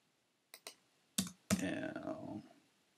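Someone types on a computer keyboard, two light taps followed by a couple of sharper clacks and a brief burst of keystrokes that ring out and fade, fairly quiet and close.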